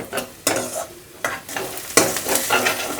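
Onions frying in a pan for a prawn fry, stirred repeatedly: bursts of scraping and clattering strokes over a steady close sizzle, with no talk.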